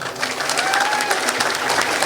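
An audience applauds Khabib Nurmagomedov, a steady dense wash of clapping with a few faint cheers mixed in, filling the room evenly throughout.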